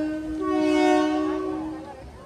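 The Konkan Kanya Express sounds its horn at Rajapur station, a single loud, sustained tonal blast that swells and fades over about two seconds amid faint station background.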